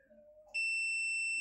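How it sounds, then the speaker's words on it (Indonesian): A multimeter set to buzzer continuity mode lets out a steady, piercing electronic beep that starts abruptly and holds at constant loudness, close by, after a few faint tones. "ini sudah ke mode buzzer"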